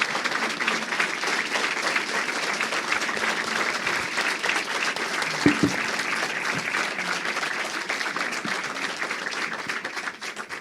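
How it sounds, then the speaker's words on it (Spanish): An audience at a criminology interview event gives a long, sustained round of applause. The dense clapping holds steady for about ten seconds and thins slightly near the end, with no speech over it. "Un aplauso, por favor, para Ricardo."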